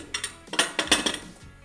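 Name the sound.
metal cake tin placed inside a pressure cooker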